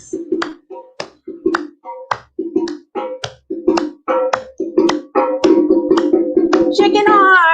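Hand claps in a West African dance class, single sharp claps in a steady beat that grow denser, with a voice and drumming or chanting joining in the latter half.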